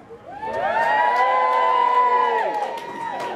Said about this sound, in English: If you want Sully to win, give me a cheer.